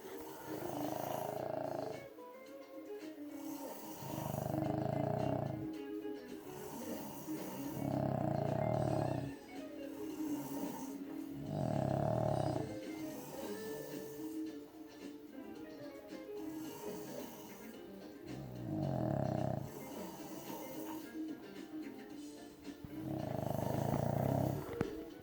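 Person snoring loudly late at night, with deep, rough, rumbling snores repeating steadily every few seconds, about seven in a row, close and prominent with quieter breathing between them.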